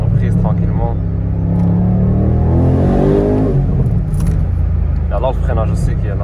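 A BMW M850i convertible accelerates gently, its engine note rising steadily and loud from close by, with people talking over it throughout.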